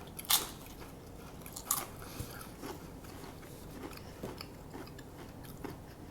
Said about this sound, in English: let's see what this all dressed tastes like